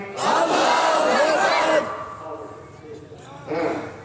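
A crowd at an Islamic religious gathering (mahfil) roars Allahu Akbar in unison in answer to a takbir call, one loud massed shout followed by a shorter second burst.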